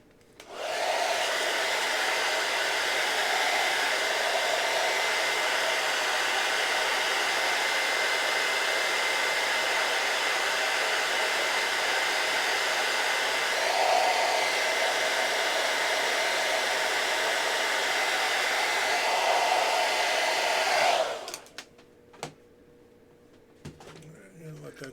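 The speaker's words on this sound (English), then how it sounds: "We grab this hair dryer." A hair dryer blows on wet purple paint, a loud steady roar that runs for about twenty seconds, then cuts off and leaves a few small clicks and knocks.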